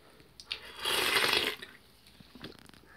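Freshly opened can of Citrus Twist Bang energy drink, a clear carbonated liquid, fizzing and bubbling at the top; a soft, close hiss of bubbles swells for about a second between faint small clicks and pops.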